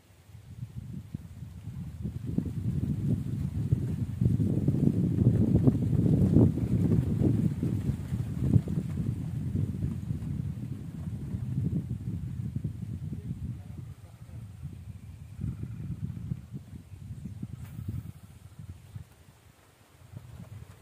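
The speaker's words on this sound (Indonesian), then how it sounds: "Anginnya kencang banget, bos." Strong wind sweeps across a brackish fish pond during a casting trip, producing a continuous low rumble of gusts buffeting the microphone that swells and eases over time, with faint voices mixed in.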